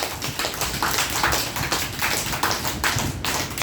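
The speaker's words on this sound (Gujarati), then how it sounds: "ચલો બાળકો, તાળી પાડો." Children clapping their hands at an anganwadi, a steady run of light, quick claps close by filling the whole stretch, with no talking over it.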